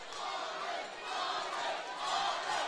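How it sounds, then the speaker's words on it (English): Crowd at a Corporate Fighter bout at the Star roars and shouts behind the fighters, a steady, fairly distant wash of yelling that swells in waves over a few seconds. "Listen to the crowd."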